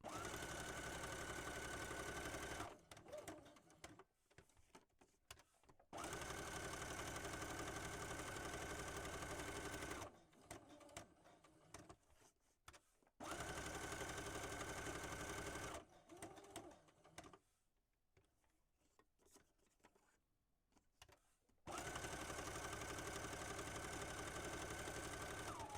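A sewing machine stitches a journal card in several bursts of steady mechanical whirring, separated by quiet pauses with faint handling noises.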